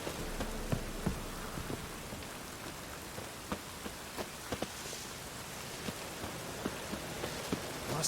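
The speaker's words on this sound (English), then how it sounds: "Rain again." Rain in The Witcher 3 game world, a soft steady patter with scattered distinct droplet taps across the whole stretch, faint and continuous with no talk.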